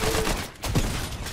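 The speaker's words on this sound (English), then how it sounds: "Oh, they brought the machine pistol back!" Machine pistol fire in the Fortnite video game, a short dense burst of rapid shots lasting about a second, loud and close with a brief gap mid-burst, no talk.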